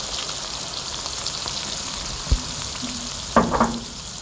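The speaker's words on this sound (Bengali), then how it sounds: "প্রথমে আমরা তেল টানে নিয়েছি এবং তেজপাতা দিয়ে দিছি এবং তেজপাতার পরে আমরা ছিলাম এক কেজি পেঁয়াজ দিয়ে দিলাম" About a kilo of onions frying in oil with bay leaves: a steady soft sizzle runs throughout, broken by two sharper clinks and scrapes of stirring near the end.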